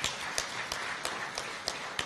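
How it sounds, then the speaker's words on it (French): Audience applause at a café littéraire event marking international recognition of the genocide against the Tutsi: a dense, steady wash of clapping with regular rhythmic peaks running the whole time, no voices. "je vous demande tous de l'applaudir"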